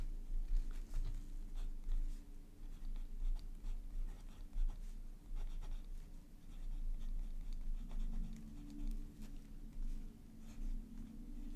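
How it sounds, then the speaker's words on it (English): A fountain pen with a gold left oblique nib, inked with Pilot blue, writing smoothly on paper: a steady soft scratching of the nib at close range, continuing quietly for the whole stretch with no talk. "It's a gold nib, and it writes very smoothly."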